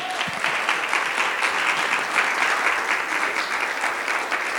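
Sustained applause from a church congregation fills the space steadily, a dense even wash of many hands clapping at close range with no talk over it.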